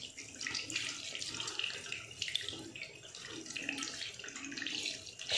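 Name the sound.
water running while washing the left foot during wudu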